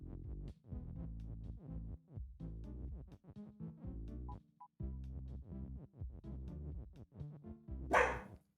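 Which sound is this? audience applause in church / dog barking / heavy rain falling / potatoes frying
dog barking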